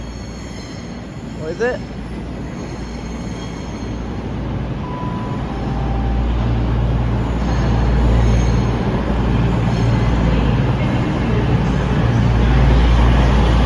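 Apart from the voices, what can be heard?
cross-country class 220 train arriving at Bournemouth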